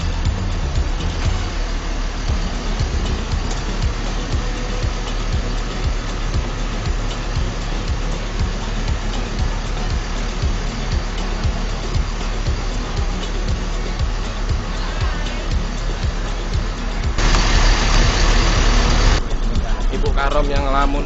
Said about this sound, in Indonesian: Bus kami nomor 6.